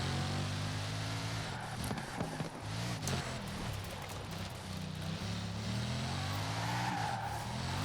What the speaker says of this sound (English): It sounds like the other Bugattis pretty much.